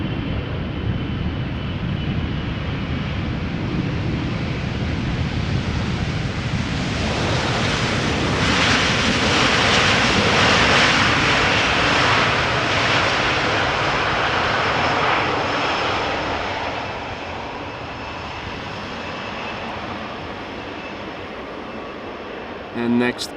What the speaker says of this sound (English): Air Canada flight 808 arriving from Toronto.